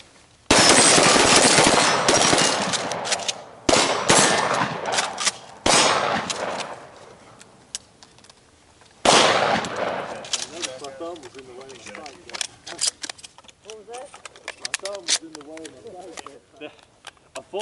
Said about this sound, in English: Okay, shoot two, load two. Shoot two, load two.